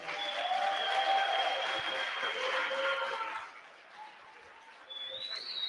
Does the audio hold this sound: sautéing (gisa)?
no